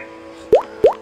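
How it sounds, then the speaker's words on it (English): A dripping sound effect: two distinct water-drip plops with a quick upward-sliding pitch, close and crisp, about a third of a second apart over a quiet background. "Drips are the worst thing I've ever heard."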